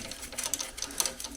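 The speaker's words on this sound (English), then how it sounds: "Alright, so I'm just going to bolt this on" A thermostat is bolted onto an air-cooled Volkswagen Beetle engine, with quick, faint, close mechanical clicking and ticking in a rapid, uneven run.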